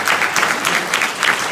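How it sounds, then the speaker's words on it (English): Audience applause at a Houston business presentation, a dense, even wash of many hands clapping that holds at a steady, fairly loud level throughout. "So we need to give that a round of applause,"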